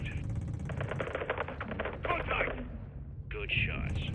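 Call of Duty Modern Warfare 2 artillery fire rumbles low and steady beneath rapid rattling bursts of shots and radio chatter, with voices speaking over the battle.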